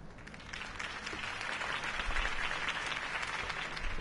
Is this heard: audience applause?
yes